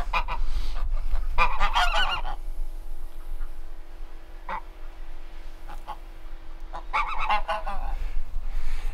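Geese honk loudly nearby in two noisy bursts, one early and one near the end, with quieter stretches of outdoor background between them.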